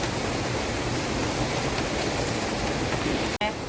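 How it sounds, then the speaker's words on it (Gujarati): Rain falls steadily as a dense, even hiss that holds unbroken until a brief dropout near the end. "જો વરસાદ હજી ચાલુ છે."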